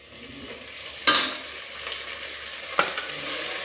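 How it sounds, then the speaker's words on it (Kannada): Onions fry in a pan as fenugreek leaves are added, with a low sizzle under two sharp spoon-scraping stirs, close and with no talking. "ಈಗ ಫ್ರೈ ಆಗಿದೆ ವೀಕ್ಷಕರೇ, ತುಂಬ ಚೆನ್ನಾಗಿ ಈರುಳ್ಳಿ ಬೆಂದಿದೆ, ಫ್ರೈ ಆಗಿದೆ. ಇದಕ್ಕೆ ನಾವು ಈಗ ಮೆಂತ್ಯ ಸೊಪ್ಪನ್ನು ಹಾಕ್ಕೊಳ್ಳೋಣ."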